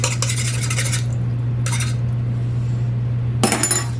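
A tiny spoon scrapes barley malt syrup off into the bowl of an Ankarsrum mixer, with short metallic scrapes and clinks in three bursts over a steady low machine hum.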